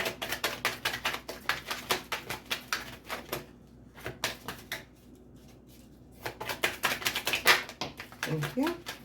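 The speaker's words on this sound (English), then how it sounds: "Two more shuffles and I'll pull from the top." Tarot cards are shuffled in quick bursts of crisp riffling taps, pausing briefly in the middle before resuming, close and fairly soft.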